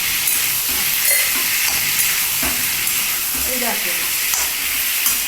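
Potatoes and spices for an egg and papad curry sizzle loudly in a hot pan, with scraping stirring strokes and bursts of steam over a constant close crackle and no voices.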